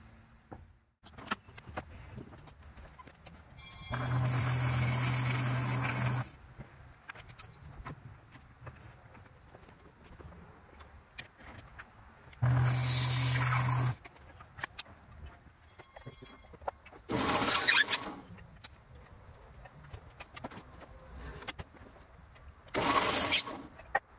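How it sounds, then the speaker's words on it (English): A lathe cuts wooden blanks for spinning tops in several separate bursts of loud, harsh cutting noise, each lasting one to two seconds, separated by quieter stretches of workshop sound. "the lathe is a safer way to cut this"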